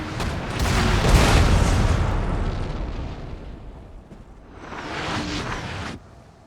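Cannons fire in Napoleon: Total War, giving two deep, rumbling booms: the first long and loud, the second shorter a few seconds later, with no talk over them.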